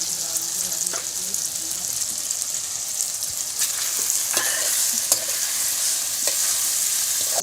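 Wild forest mushroom curry frying in a pan at a village cooking fire, with a steady sizzle under repeated scraping stir strokes throughout. No one speaks.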